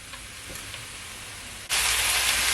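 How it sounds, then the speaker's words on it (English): Oxtail sears in a hot pan with a steady hiss that suddenly jumps much louder and brighter partway through as the meat goes down on its other side, with no talking. "Yeah, I'm gonna sear the other side."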